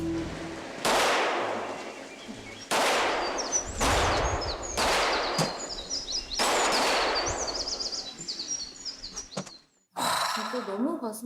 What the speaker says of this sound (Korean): 새벽 야산에 6발의 총성이 들리고 맙니다